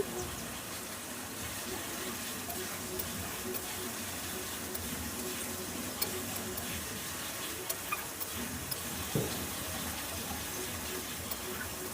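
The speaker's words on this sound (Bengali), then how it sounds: "গ্যাসের ফ্লেমটাকে হাইতে রেখে আমি ভালোভাবে মশলাটাকে ভেজে নিচ্ছি।" Spice masala for a fish curry fries on a high gas flame, giving a steady, fairly quiet hissing sizzle that runs evenly throughout, dotted with a few faint pops and clicks.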